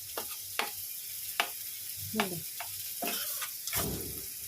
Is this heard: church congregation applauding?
no